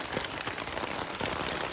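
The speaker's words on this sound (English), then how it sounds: "Mate, listen to that rain." Steady rain patters densely on a tarp basher pitched in woodland, a constant close wash of drops with no voices.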